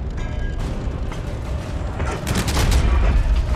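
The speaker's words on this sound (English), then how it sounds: "Those HE explosions are very underwhelming." Heavy high-explosive shell explosions and gunfire crackle in a dense, loud battle mix in the video game Heroes and Generals, with booming blasts swelling toward the end.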